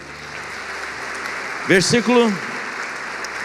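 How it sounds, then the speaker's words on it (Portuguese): A church congregation applauds the Lord in a steady, dense wash of clapping that runs throughout, while a voice briefly speaks over it near the middle. "Você pode dar um aplauso ao Senhor?"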